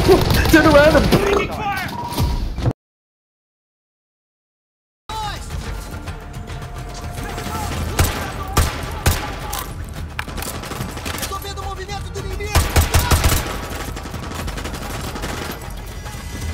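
Gunfire rattles through a Call of Duty firefight in repeated rapid bursts and scattered single shots, loud and close, with a short silent gap early on and a dense cluster of volleys later.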